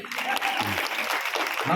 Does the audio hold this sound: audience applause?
yes